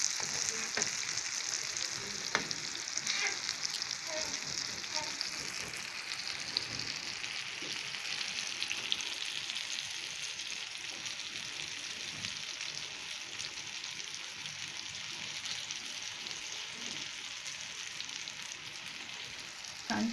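An egg omelette fries in a pan, its underside cooking with a steady, soft sizzle that runs evenly throughout, occasional small pops and crackles breaking through.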